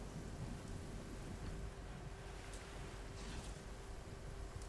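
Thunderstorm ambience with steady rain in a video game, a dense constant hiss of rainfall with low rumbling underneath, evenly loud throughout and heard alone without voices.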